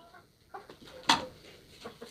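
A large rare Kashmiri-breed rooster gives brief, close clucks, with one sharp louder call in the middle among a few softer sounds.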